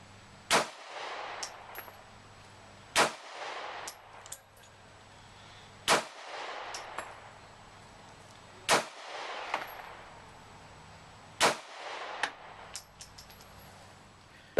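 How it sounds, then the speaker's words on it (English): A SIG Sauer P290 9mm pistol fires six sharp, loud shots at an outdoor range, spaced roughly two to three seconds apart, each with a brief ringing tail and some quiet handling noise between. "So here's a little bit of a video of me showing me shooting at 15 yards."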